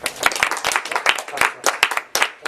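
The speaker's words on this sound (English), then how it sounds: "Clap, clap, clap." Audience clapping at a live puppetry practitioner talk and workshop session, a brisk, fairly close burst of many hands with sharp individual claps, steady through the moment with a voice mixed in.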